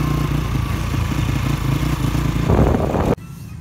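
A motorcycle engine drones loud and close with a steady, throbbing low rumble. It swells into a brief rush of noise as it goes by, then the sound cuts off abruptly.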